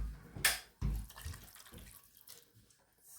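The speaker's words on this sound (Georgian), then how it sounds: "ჩაის ადუღებული წყალი მაქვს აქ და ეს არის რომ დავასხი" Boiled water poured for tea splashes into a cup in a quiet kitchen, with a sharp clink at the start and a soft trickle that tapers off over a few seconds.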